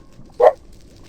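A single short wolf bark from the Minecraft video game, one quick yelp-like burst standing alone above a quiet background.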